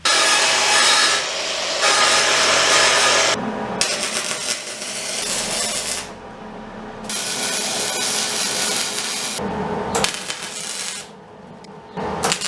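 A tool grinds and cuts a tab off a steel track bar bracket on the axle of a 2003 Ford Excursion diesel, loud harsh rasping in long bursts separated by short pauses, no talking.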